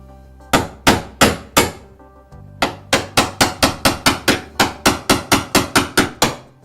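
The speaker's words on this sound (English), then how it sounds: "we're going to use a hammer and chisel to pop that off" Sharp hammer blows striking a metal chisel prying off a countertop, four spaced strikes, a brief pause, then a fast, steady run of about a dozen more ringing hits.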